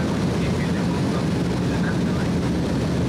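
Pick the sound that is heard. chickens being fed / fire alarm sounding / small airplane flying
small airplane flying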